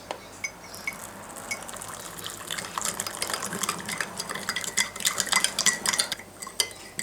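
Sugar and borax stirred into boiling water in a container, with a spoon clinking and scraping against the sides in a steady, busy rhythm that grows louder and more vigorous toward the end.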